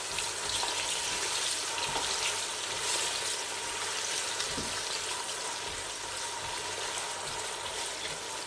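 Two chopped onions frying in half a cup of hot oil over a high flame, giving a steady, dense sizzle that runs throughout with a few soft stirring knocks underneath.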